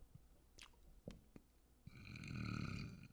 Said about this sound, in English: Can you make yourself burp?